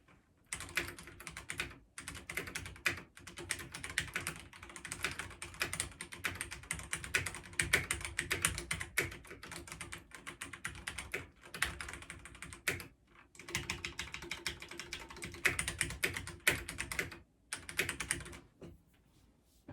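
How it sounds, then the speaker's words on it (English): Notes are typed on a computer keyboard in a quiet room, with soft, continuous rapid key clatter up close that breaks off in a few short pauses. "Let me just retype all those notes for you"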